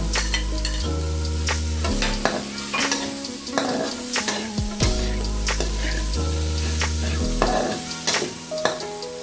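Onions sizzling and frying in a pan for sautéed sayote leaves with shrimp, a steady loud crackle with repeated stirring scrapes and utensil knocks throughout.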